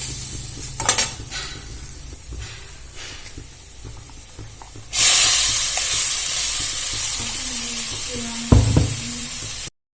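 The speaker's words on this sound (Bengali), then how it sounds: "এবারে আমি এর মধ্যে পোস্তটা দিয়ে দেব" Poppy seeds drop into a pan of fried dried mango powder, setting off a sudden loud, sustained sizzle after quieter stirring and scraping, with a knock of the utensil near the end.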